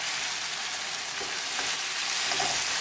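Garlic shrimp fry with salt, black pepper, red chili flakes and parsley in a pan, giving a steady, close, dense sizzle throughout.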